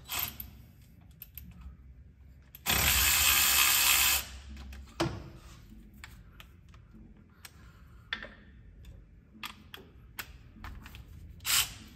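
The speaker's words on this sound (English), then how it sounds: "Going to loosen a couple bolts." Bolts come loose on the outer alternator bracket of a shop truck: one loud, close, buzzing power-tool burst lasting about a second and a half, framed by scattered metallic clicks and clinks.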